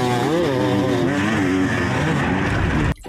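A toy motocross bike gives a continuous buzzing, wavering engine-like whine with shifting pitch, loud and close, cutting off abruptly near the end.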